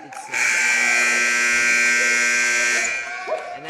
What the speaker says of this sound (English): And that buzzer marks the start of the game.